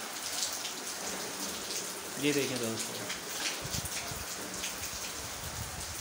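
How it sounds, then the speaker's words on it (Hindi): Heavy rain falling in Allahabad, a steady broad hiss of downpour with someone talking briefly over it. "बड़ी तेज़ी के साथ आ रही है बारिश है"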